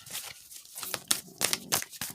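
Tarot cards being shuffled by hand during an intuitive reading, heard alone as a series of crisp, papery riffles and slaps in irregular bursts, close to the listener.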